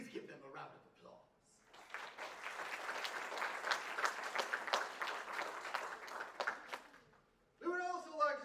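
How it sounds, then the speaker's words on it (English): A community theater audience breaks into applause for sponsors, a dense crowd of clapping that swells and holds for several seconds, framed by a speaker talking before and after. "Please give them a round of applause."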